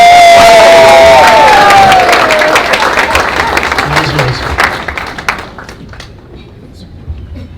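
Audience applause and cheering greet Colonel Tucker Hamilton as he walks on stage at a talk on artificial intelligence, loud, dense clapping that swells at first and then thins out and fades over several seconds.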